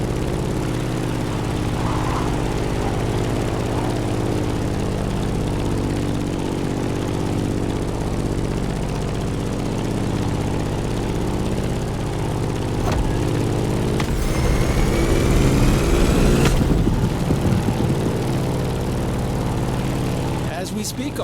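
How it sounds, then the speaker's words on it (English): In a racing video game, a Grumman F8F Bearcat propeller plane drones on with a steady, loud engine hum. A voice speaks over it, and near the end there is a brief swelling whoosh. "In the cockpit of a stunning Grumman F8F Bearcat, or simply the Bear."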